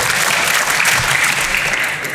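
High school students of SMA 1 at an Islamic youth lecture burst into loud, dense applause, a short, full round of clapping close and unbroken.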